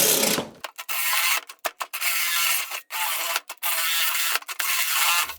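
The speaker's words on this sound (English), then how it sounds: "So I'm going to ream that hole out, or those holes out," Reaming out holes to 3/4 inch in the metal case of a homemade heat treatment oven: a steady grinding, scraping cut close by, broken by frequent short pauses as the tool stops and restarts.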